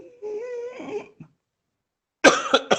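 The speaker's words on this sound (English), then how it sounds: "I had a cough now" A deliberate raspy throat sound made while breathing in, then a pause and a couple of harsh, cough-like bursts close by.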